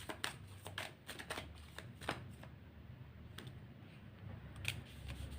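Tarot cards riffled and shuffled by hand at close range, with a run of crisp snapping flutters and soft slides over a quiet room, no voices.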